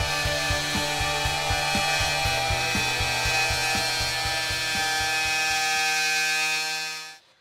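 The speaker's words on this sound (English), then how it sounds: "Then the hand router can be used for cutting along the fence with a circular cutter." Hand router cutting along a fence with a circular cutter in a woodworking shop, a steady loud high-pitched motor whine with a regular pulsing rhythm throughout, stopping abruptly at the end, no voices.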